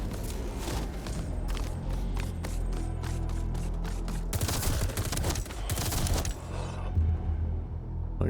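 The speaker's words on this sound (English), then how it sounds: "I'm shooting." Rapid automatic gunfire from the player's weapon in the video game Metal Eden, a dense, loud burst of repeated shots over a low rumbling game soundtrack.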